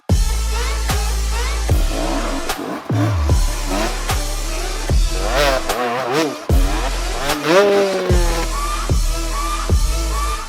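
Dirt bike engines rev and climb the Mbungolo Pass during the final day of The IMPI 2017, with loud, continuous revving that rises and falls through gear changes and bursts of throttle.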